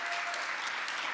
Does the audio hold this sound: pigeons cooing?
no